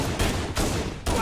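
Rapid pistol gunfire in Halo: Combat Evolved Anniversary, three loud broadband bursts in quick even succession with no talk.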